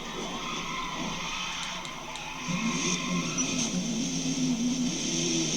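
A 1969 Camaro drifts in Forza Motorsport, its engine droning steadily and then rising into a louder, sustained roar about halfway through, with a high-pitched tire squeal layered over it.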